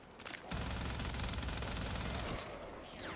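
A captured enemy turret in a video game fires one long, loud, rapid burst of automatic shots that runs steadily for about two seconds and then cuts off.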